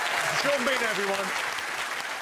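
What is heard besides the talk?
studio audience applause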